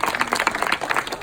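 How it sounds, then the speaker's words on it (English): Audience at an empowerHER chapter launch event in Beverly Hills clapping for volunteers, a brisk patter of individual hand claps from a modest crowd, close and lively without voices. "If we can give a round of applause for our volunteers"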